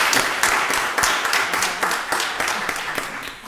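Applause rises from the audience at a county board of commissioners meeting in Rockdale County, a steady patter of many hands clapping at moderate level that fades slightly toward the end.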